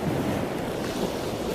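Ocean surf washing steadily against a European harbour on the Atlantic under an overcast sky, a continuous broad roar of waves with some wind noise, no voices.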